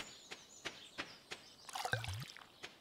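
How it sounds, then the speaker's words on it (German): Watering can being filled in the farming video game Stardew Valley, a short burst of pouring, splashing water near the end of the clip, preceded by regular soft tapping footsteps. "Nee, Gießkanne machen wir erst voll."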